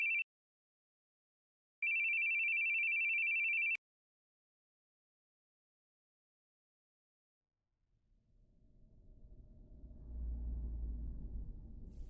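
A telephone rings in a video game, one short electronic ring tone followed by a longer sustained ring, then silence before a low rumble builds up.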